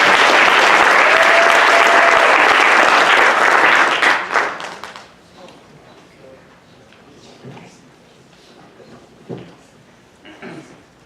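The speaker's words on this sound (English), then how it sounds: "Let's go ahead and have a warm round of applause for Blake and Brandon." An audience at a seminar gives a warm round of applause for two speakers, dense and loud for about four seconds before fading to scattered claps and room noise.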